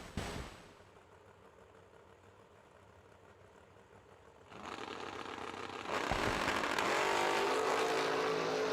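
A 1968 Camaro drag car at a summer drag racing event builds from a low engine rumble to a loud roaring launch that swells and stays intense near the end.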